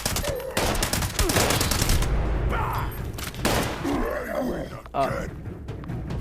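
A combat rifle in a video game fires rapid bursts, loud and dense at first and then in shorter volleys, while someone talks over the shooting.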